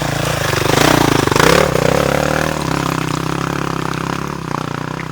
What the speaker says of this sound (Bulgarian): Лекичко върви мотор.